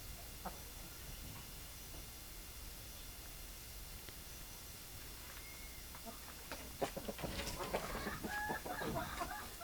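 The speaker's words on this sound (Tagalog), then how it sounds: "Tatlo yung Basilan na hens dito, isang roster." Three Basilan hens and a rooster cluck in a farm pen. The sound is faint and sparse at first, then a moderately close cluster of clucks comes near the end over steady background noise, with no talking.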